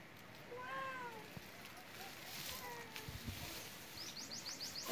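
Cat meowing, a couple of drawn-out plaintive meows near the start followed by fainter mews over quiet background, with a few small chirping sounds toward the end.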